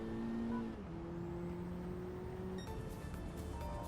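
Car engine in Gran Turismo 7 running at steady revs with a sustained tonal drone that dips as the gear shifts, alone without talk.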